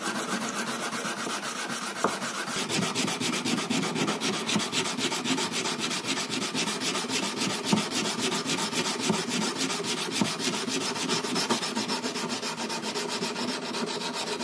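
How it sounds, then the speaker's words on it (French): Steady, continuous rasping of sandpaper rubbed back and forth by hand on a small karambit blade, close and even, with no voices. "on finit ça avec un polissage à la main"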